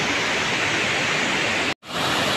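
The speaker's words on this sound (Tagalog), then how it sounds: "Maingay lang kasi malakas yung bagsak ng tubig." Water rushing down at Wawa Dam, a steady loud broadband roar that continues without pause apart from one brief cut near the end.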